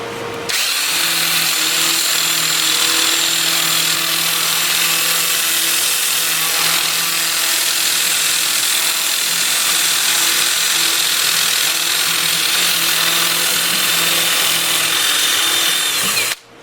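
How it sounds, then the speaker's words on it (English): A sanding disc runs against a wooden bowl spinning in reverse on a lathe at about 350 RPM, starting at 80 grit, making a steady, loud, unbroken whir with a faint grinding edge from start to finish. "I'll switch to my 2/8 disc starting at 80 grit and working up through 400. I'll have the lathe spinning in reverse for that at 350 RPM."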